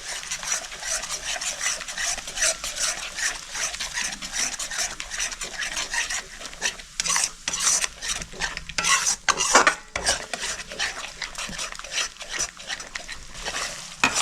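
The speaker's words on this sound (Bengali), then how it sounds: "টক দইটা দিয়ে আমি ভালো করে মিক্স করে নিচ্ছি।" A spoon stirs yogurt into rohu fish korma in a pan over low heat, making busy scraping and rubbing strokes in an uneven rhythm over a faint sizzle, close and without speech.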